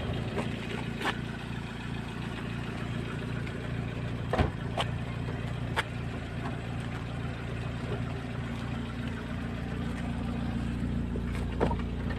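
A 1997 Toyota Soluna's 5A engine idling smoothly, a steady low rumble close by, with a few faint clicks and knocks in the background.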